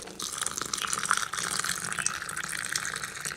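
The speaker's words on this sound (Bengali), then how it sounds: "যে দুধটা আমি ফুটিয়ে নিলাম সেই দুধটা আমি দিয়ে দিচ্ছি, একটু ওপর থেকে দিয়ে দিচ্ছি" Boiled hot milk poured from a height into whipped coffee batter: a steady splashing, gushing pour lasting a few seconds, close and continuous with no talking.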